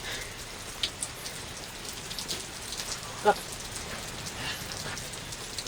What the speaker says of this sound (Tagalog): Tama, umuulan.